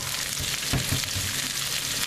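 Cabbage fries with added sesame seed oil, making a steady, close, crackling sizzle with a few stirring bumps.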